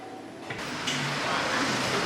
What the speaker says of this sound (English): Door opening.